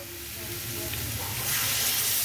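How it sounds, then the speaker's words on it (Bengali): Water poured into a pan of frying figs sets off a loud, steady sizzle and hiss that swells sharply partway through, with no voices. "এবার আমি ডুমুরের মধ্যে জল দিয়ে দেবো।"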